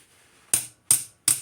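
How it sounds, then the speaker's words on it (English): Three loud, sharp metallic hammer strikes at a steady pace, close up, driving out a rear wheel bearing on a Yamaha TW 200 motorcycle. "Whacking it with a hammer."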